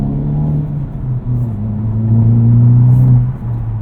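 Engine of a 2023 Honda Civic Type R or Hyundai Elantra N pulling away to warm its tires: a steady, close, loud drone that rises in pitch and intensity midway, then eases, heard from inside the cabin with no talk.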